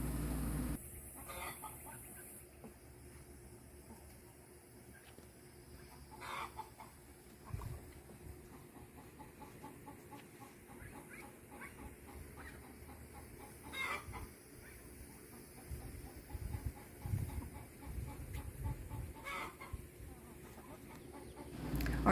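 Bantam chickens and baby chicks in a backyard coop: soft, intermittent clucks and chirps sounding fairly quiet and close, with a brief crow-like call among them over a low background hush.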